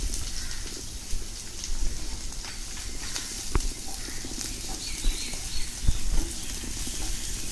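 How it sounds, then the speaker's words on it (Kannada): Onions and green chillies frying in oil in a pan for egg fried rice, a steady dense sizzle that carries on throughout, close and loud with a few soft clinks. "ಚೆನ್ನಾಗಿ ಫ್ರೈ ಮಾಡ್ಕೋಬೇಕು ಇವಾಗ"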